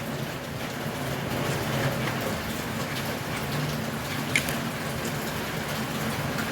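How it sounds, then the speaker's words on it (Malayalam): Steady, even rain falls outdoors in a continuous wash of patter, with a gas stove set up outside where coconut oil is heating in a pan on the burner. "ഇവിടെ നല്ല മഴയാട്ടോ."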